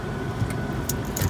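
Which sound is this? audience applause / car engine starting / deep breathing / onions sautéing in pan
car engine starting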